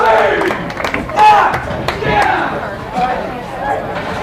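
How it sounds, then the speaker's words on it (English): A crowd at a high school varsity boys and girls bowling match cheers and calls out in bursts, moderately close, over a steady murmur of chatter and voices, with a few sharp claps or knocks. "We got some cheers down there"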